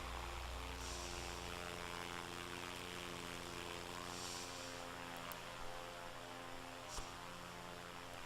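Light aircraft cruising in flight after takeoff from a small airfield, a steady droning engine and propeller hum with a constant buzzing tone and wind noise, continuous and close throughout.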